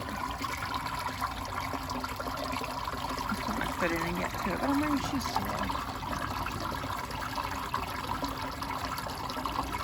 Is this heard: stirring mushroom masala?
no